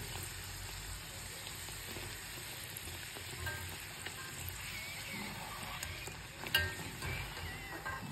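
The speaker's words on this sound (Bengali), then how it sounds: "এরকম লাল লাল করে ভেজে নিন" Dal puri deep frying in hot oil, a steady, quiet sizzle and crackle with a few sharper pops.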